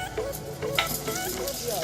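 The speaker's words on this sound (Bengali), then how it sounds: "তো আমরা আলুটা একটু ভেজে নিচ্ছি।" Potatoes frying in a pan in a home kitchen, with steady sizzling and occasional stirring scrapes, some faint background voices mixed in.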